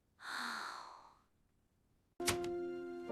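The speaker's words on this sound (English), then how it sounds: "I yawn a lot." One person yawns with a long, breathy exhale that fades out, followed by a short pause and then an abrupt tonal sound.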